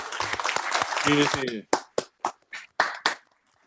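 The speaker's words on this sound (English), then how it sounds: "I think we should give him a round of applause" Council members applaud during a full council meeting, a brief burst of overlapping clapping mixed with voices that quickly thins into five or six separate, sharp claps spaced apart, then silence.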